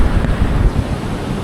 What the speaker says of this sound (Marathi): छोटी लाट, ही छोटी लाट आली.